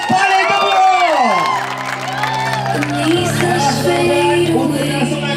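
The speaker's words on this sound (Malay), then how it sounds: "Berikan tepukan yang paling gemuruh" An outdoor community environmental ceremony crowd cheers, whoops and claps loudly and continuously, with shouting voices and a sustained musical fanfare running through the noise.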